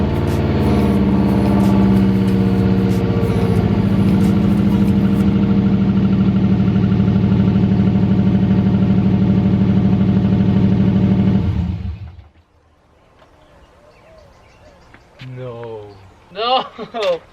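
A Subaru WRX fitted with eBay headers starts up and idles loudly and close for about twelve seconds with a steady, rumbling tone, then shuts off abruptly, followed by quiet and a few short voice sounds.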